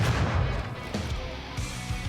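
AK rifle fire in an online shooter game, several heavy booming shots in quick succession with a sharp crack near the middle, close and loud with no talking over it.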